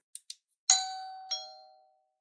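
A Wyze Video Doorbell V2 chime: two quick soft clicks, then a clear ringing two-note ding that rings out and fades, quiet and alone.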